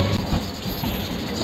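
Guntur–Repalle MEMU electric multiple-unit train running on the tracks, giving a steady, loud rumble and rattle of wheels and carriages throughout, with no voices.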